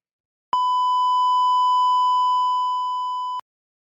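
A single steady censorship bleep tone at about 1 kHz masks swearing, clean and loud, lasting nearly three seconds with an abrupt start and stop and no other sound around it.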